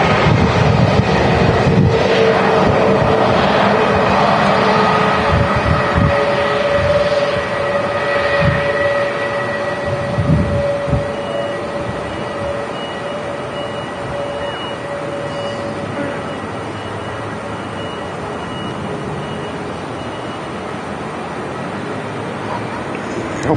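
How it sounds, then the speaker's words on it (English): An Air Transat Neo airliner departing Manchester Airport, a broad, steady jet roar heard from a distance, loud at first and slowly fading, with wind buffeting the microphone. "Air Transat Neo departing back over to Toronto."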